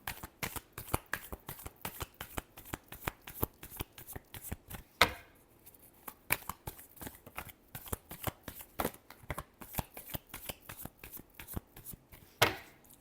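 Tarot cards are shuffled in quick riffled bursts, crisp and close, with short pauses between rounds and a few sharper snaps.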